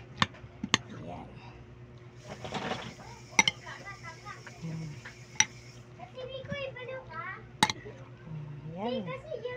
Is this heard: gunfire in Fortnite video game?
no